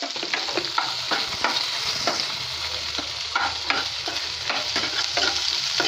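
Onion, ginger, garlic and green chili sautéing in a pan for vegetable pulao, a steady close sizzle broken by repeated scraping stirs in a loose rhythm.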